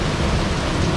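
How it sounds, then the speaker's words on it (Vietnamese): Heavy downpour on a Vietnamese street, a dense, loud, continuous hiss of rain with a low rumbling undertone, steady for the whole second. "nè mưa lớn quá"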